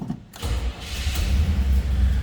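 A 1973 Buick Electra 225 Custom hardtop's 455 V8 fires up after a brief cranking burst, then settles into a loud, steady low rumble close by.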